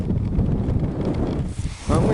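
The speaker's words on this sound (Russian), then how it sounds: "ветрище целый день до 12 метров в секунду" Strong wind of up to 12 metres per second blows across a freezing lake shore, roaring and buffeting the microphone in continuous low gusts, loud and close throughout.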